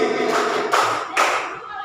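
Schoolchildren in a classroom clapping hands together in a patterned rhythm game, several loud group claps landing in quick succession, close and crisp, with a few scattered softer claps between them.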